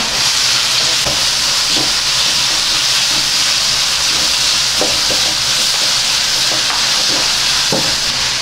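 Onions and other ingredients fry for gobi manchurian, a loud continuous hiss and sizzle with occasional soft stirring knocks close by.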